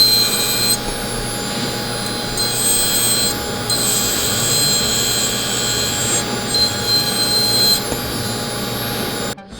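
High-speed rotary tool spinning up to 50,000 RPM cutting borders in a tactical gear workshop, a continuous shrill whine with rasping, grinding texture that wavers as the bit moves along the edge, close and steady throughout.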